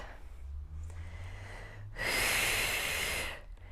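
Steady breathing during a mobility exercise class, ending in a strong, close exhale that lasts about a second and a half.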